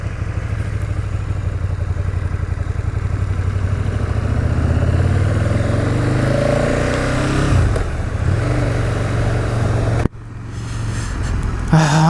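KTM 1290 Super Duke R motorcycle ridden on the road, its engine droning steadily and loud with shifting pitch, then cutting sharply near the end as the sound changes abruptly.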